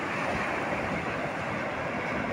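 River waves at Bakkhali wash in as a steady broad rush of water mixed with wind noise on the microphone, continuous and fairly close, with no voices.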